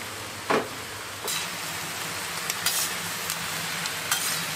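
Food sizzles steadily in a hot pan while a utensil scrapes and stirs it in a few short, distinct strokes. No one speaks.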